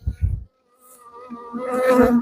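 Honeybees buzz in a rising, droning hum after a couple of low thumps as a colony is shaken, the buzz growing louder and fuller toward the end.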